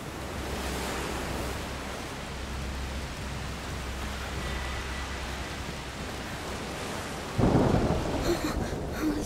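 Heavy rain and a thunderstorm in the video game A Plague Tale: Requiem, with a dense steady downpour hiss and a low rumble, then a sudden loud thunderclap crashing in near the end.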